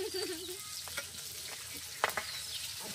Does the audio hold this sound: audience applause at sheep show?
no